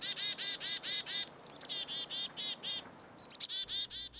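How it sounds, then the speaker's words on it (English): Chickadees call close by in snowy, quiet Newfoundland woods. Rapid, evenly spaced chirping notes repeat in quick series with a few higher, sharper calls mixed in, over a near-silent background. "I heard a couple chickadees close by. Their call is a pleasant one to hear on these snowy, quiet days."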